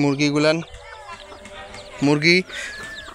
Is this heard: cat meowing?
no